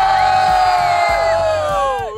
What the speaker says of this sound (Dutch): laten we z'n allen even schreeuwen man